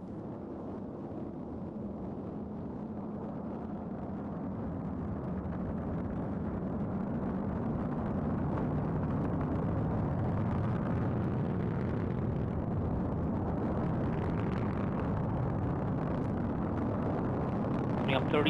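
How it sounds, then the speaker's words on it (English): A Delta IV rocket lifting off with the GOES-P weather satellite: a deep, broad roar that swells over several seconds and then holds as a sustained rumbling thunder heard from a distance. "And liftoff of the Delta IV rocket with GOES-P"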